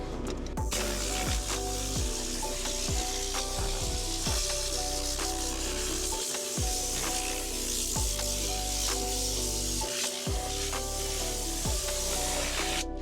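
A Tornador air tool blasts compressed air across dirty car carpet, giving a steady loud hiss with a pulsing whine and brief cut-outs as the trigger is released and pressed again.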